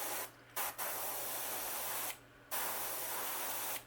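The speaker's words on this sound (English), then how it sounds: "Darken them up the longer you spray." Spray paint hisses in four steady bursts of varying length, separated by brief pauses, while coating a Japanese koi pattern onto a crankbait fishing lure.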